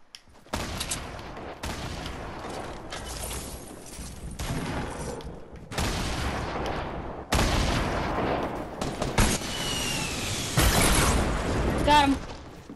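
Gunfire in a Fortnite match, bursts of rapid shots and sharp cracks that come in clusters and stop abruptly, loud and close, with players talking in between.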